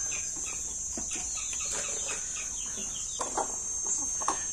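Chick of the Ayam Ratu breed clucking softly while being hand-fed a liquid multivitamin, scattered short peeps close by over a steady high-pitched background hiss.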